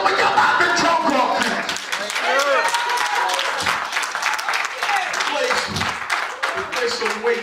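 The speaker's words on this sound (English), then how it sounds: "I need you to clap your hand, open your mouth and talk up." A church congregation claps steadily and energetically, with voices calling out over the applause throughout.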